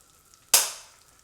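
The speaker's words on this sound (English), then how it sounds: "I'm going to grill these in a little bit of butter" Ham and Swiss wrapped veggie rolls hitting melted butter in a frying pan, a single sudden bright sizzle that bursts loud and then fades away over half a second, with no voices.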